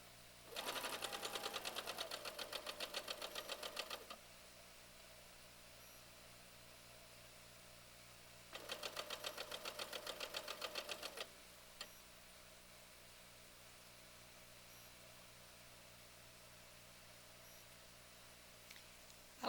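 A sewing machine stitches quilt blocks in two steady bursts of rapid, even whirring, one longer at the start and another a few seconds later, with quiet room tone between and after.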